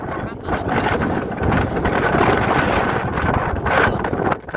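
Strong wind on the exposed summit of Saddleback Jr. on the Appalachian Trail, buffeting the microphone in loud, rumbling gusts that rise and fall throughout.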